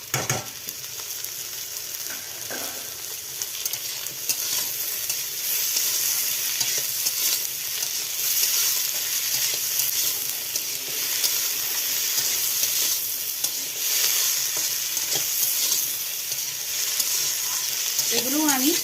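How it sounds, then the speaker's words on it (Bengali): Jala fruits and cut potatoes frying in onion-flavoured oil while being stirred, a steady, close sizzle with scraping strokes running throughout, no talk over it. "এগুলো আমি একটু তেলে হালকা করে ভেজে নেব"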